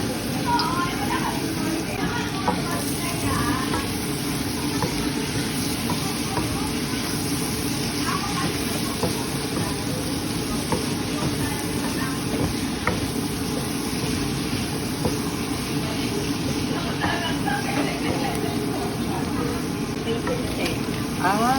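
Ingredients frying in a pan crackle and sizzle continuously while being stirred, steady and close, with faint voices talking in the background.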